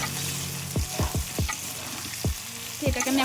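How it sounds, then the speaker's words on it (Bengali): Potato pieces frying in oil in a pan, a continuous close sizzle broken by several quick scraping strokes of a spatula as they are stirred. "তো এটাকে আমি এখন আলুটা আরেকটু ভেজে নেবো।"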